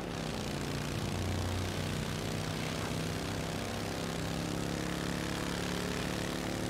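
A motorcycle engine in the Mafia video game holds a steady, continuous droning hum at constant pitch and volume throughout, loud and close, with no voices over it.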